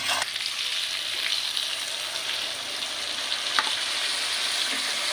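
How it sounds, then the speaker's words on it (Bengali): Spice paste frying in a pan and being stirred, a steady broad sizzle with occasional scraping of the spoon, close and loud with no talking. "এখন যে মশলাটা করে রেখেছিল সেই মশলাটা এর মধ্যে দিয়ে দেবে।"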